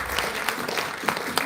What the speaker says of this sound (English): let's have a round of applause for Irenosen.